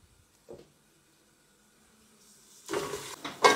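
Onion fries in a pan for wheat flour upma: near-silence with a faint stir at first, then a hissing sizzle swells up in the final second, close and moderately loud.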